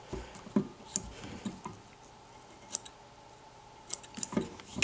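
Scissors trimming fibers while a saltwater bonefish slider fly is tied. Sharp, quiet snips come one after another at an uneven pace, close to the listener and heard alone.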